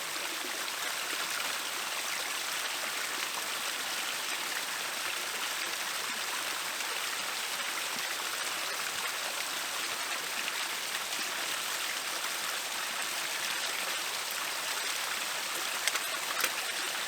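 Steady water rushing in a stream in a Finnish national park on a hot hiking day, a continuous broadband wash with no voices, constant and moderately close throughout.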